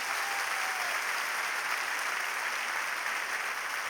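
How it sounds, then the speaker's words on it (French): Sustained applause from a concert audience at the Olympia during a 1999 tribute show, a dense, even wash of clapping heard from a distance, faint and unbroken for several seconds. "On applaudit."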